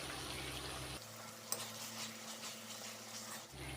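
Spices sizzling and being stirred in a hot pan for Bengali rui fish kalia, a steady soft frying crackle with a brief clink of the spoon partway through, no talking.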